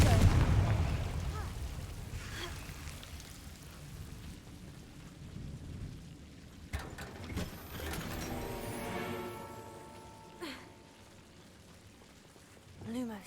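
Confringo blasting spell cast in Hogwarts Legacy, a deep explosive boom at the start that fades into a rumbling, crackling tail, followed by quieter magical whooshes and rising shimmering tones.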